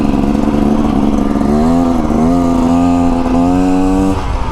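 A 2024 Beta Xtrainer dirt bike engine running loud and close, a steady buzzing drone whose pitch climbs and falls through a few throttle blips before settling back toward idle.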